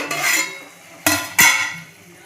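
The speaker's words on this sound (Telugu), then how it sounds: "ఈ పెరుగు మొత్తం మసాలాకు పట్టేలాగా ఇలా కలుపుకోవాలి చూపించిన విధంగా" Metal spoon scraping and clanking against a pot as yogurt is stirred into egg biryani masala, three distinct scrapes with a soft wet stir between, close and alone.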